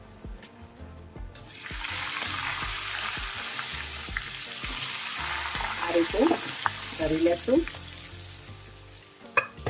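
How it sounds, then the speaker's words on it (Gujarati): Sweet potato fries deep frying in hot oil, a steady loud sizzle that swells after a quiet start, with stirring clatter and a brief voice speaking near the end. "અને જ્યાં સુધી ક્રિસ્પી ના થાય ત્યાં સુધી તળી લેશું।"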